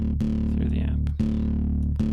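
A thick, buzzy distorted synth bass from Ableton's Operator synth, distorted by its shaper and played through an amp, holds sustained notes, cutting off and restarting twice, loud and up front.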